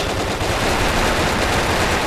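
Rapid automatic gunfire in the BrickForge video game, a loud, continuous burst of shots with no gaps and no talking.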